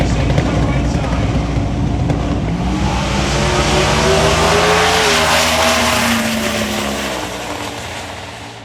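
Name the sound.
1980 Chevy LUV truck drag racing at TX2K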